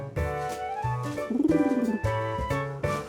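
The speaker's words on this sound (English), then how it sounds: "When it was Compass the pigeon, he really dropped by" A cartoon pigeon gives a single rolling coo lasting under a second, heard clearly over light, playful background music.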